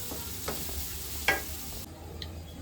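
Onions frying on a low flame give a soft steady sizzle beneath a few spoon scrapes and clinks against the pan, one sharper knock near the middle, quiet and close.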